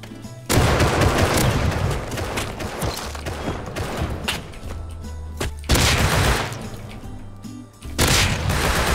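Double-barrel shotgun gunfire in the survival video game Rust during a base raid defense: loud, booming shots and blasts in separate bursts, with heavy echoing rumble filling the gaps between them.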